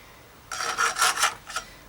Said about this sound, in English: Just need to file down the rough edges now, just to get up any of those burrs.